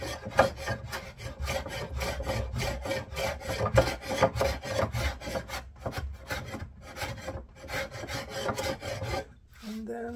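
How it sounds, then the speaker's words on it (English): Hand planer shaving across humps on a wooden dining table top, a steady train of rasping strokes, close and loud, repeating for several seconds. "wherever I see the hump, feel the hump, I'm gonna go across with the planer"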